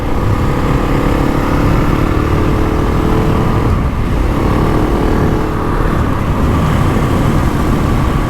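A GasGas ES 700 motorcycle engine drones loudly and steadily while being ridden, a constant up-close roar mixed with wind rush, with a brief dip in intensity partway through.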